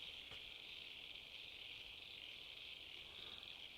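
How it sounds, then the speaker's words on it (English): A steady chorus of frogs calls from a distance, a continuous high-pitched trilling drone over quiet night ambience, with no voices. "That's frogs."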